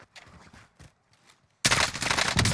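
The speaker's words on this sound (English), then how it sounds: "I hear shots for it too" Gunfire erupts in the Call of Duty Warzone battle royale: faint scattered sounds, then a sudden loud sustained burst of rapid shots.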